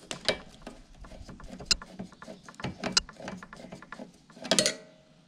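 A Phillips screwdriver backs out a screw, with sparse close clicks and ratcheting scrapes scattered over a few seconds and a busier burst of clatter near the end.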